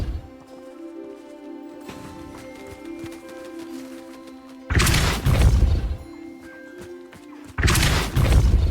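A Depulso spell cast in the video game Hogwarts Legacy: two loud, forceful whooshing blasts a few seconds apart, each a thick burst lasting about a second over quieter game ambience.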